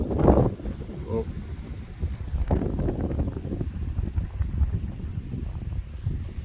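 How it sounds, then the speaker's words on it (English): Wind gusts buffet a microphone outdoors beside a rural house plot in Portugal, a low rumbling roar with a strong burst at the start, continuing unsteadily throughout. "it's getting windy"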